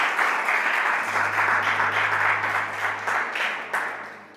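A church congregation breaks into sustained applause, a broad wash of dense clapping that carries on steadily without pause, with a low hum underneath.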